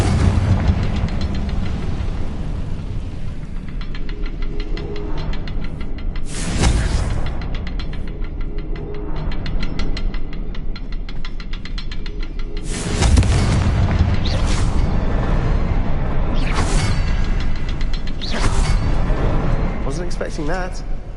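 Fire spell explosions in the game Hogwarts Legacy, several loud booming bursts spaced apart over a constant background score, with a voice speaking between blasts.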